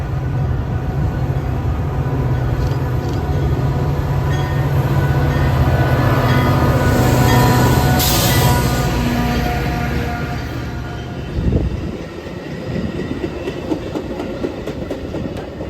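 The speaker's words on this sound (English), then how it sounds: "Our next train would be outbound Metra number 2005 with Metro 122 leading the village of Deerfield." Outbound Metra commuter train number 2005, led by Metra 122 "Village of Deerfield", rumbles past at close range with a loud, sustained roar and wheel clatter, then fades as the last cars clear.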